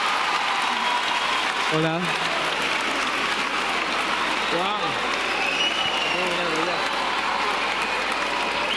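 An audience claps steadily and continuously for a teacher, with brief spoken greetings and an exclamation heard over the applause.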